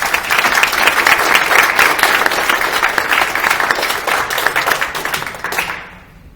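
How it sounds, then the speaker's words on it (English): A crowd applauds loudly and steadily for several seconds, the clapping fading out abruptly at the end. "let's give Michael a round of applause"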